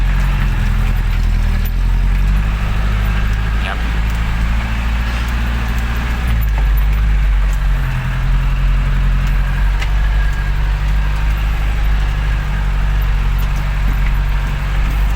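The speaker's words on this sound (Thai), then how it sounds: "ใส่เกียร์หนึ่ง เหยียบคันเร่ง ไปเรื่อยๆเลยครับ" Isuzu 115 hp dump truck engine pulling away in first gear on a dry, dusty road, a loud, steady close-up diesel drone with a slight rise in revs, no talk.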